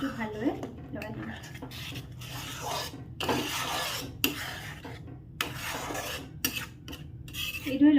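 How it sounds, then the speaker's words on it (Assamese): Spinach paste being stirred into spiced paneer masala in a pan, with a spatula scraping and rubbing against the metal in repeated strokes beneath a voice talking. "পালেং শাক দি মই এইটো ভালদৰে লৰাই দিম।"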